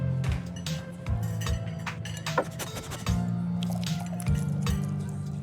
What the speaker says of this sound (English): Avery pours the fragrant brew into an empty mug in front of you